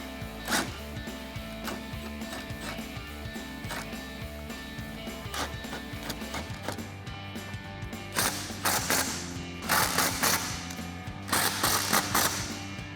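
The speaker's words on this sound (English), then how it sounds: "Now take that 19mm socket and tighten down your lug nuts." Ratchet wrench with a 19mm socket tightening lug nuts on a Jeep Wrangler JK spare tire carrier, giving steady rapid clicking pawl bursts close by, with heavier louder clicking runs in the later seconds and no talking.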